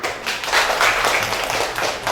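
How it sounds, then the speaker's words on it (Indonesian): A fifth-grade class claps for a student, a dense, steady patter of many hands ringing around the classroom for about two seconds. "Tepuk tangan."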